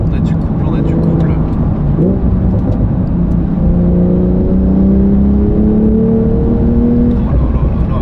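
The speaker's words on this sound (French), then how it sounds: "À partir de 3000 tours, qu'est-ce que ça mouline, même en 4." A Porsche 911 Sport Classic with a manual gearbox pulls in fourth gear from around 3000 rpm, its engine note climbing in a steady, rising drone inside the cabin while someone talks over it.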